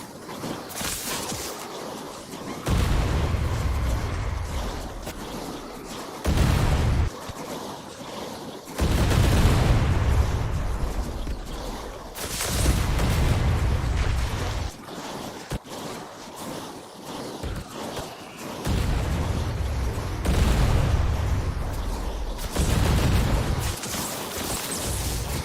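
Gunfire in the zombie survival game Night of the Dead during a wave-40 defense, dense bursts of loud automatic shooting alternating with brief lulls over continuous rumbling game noise.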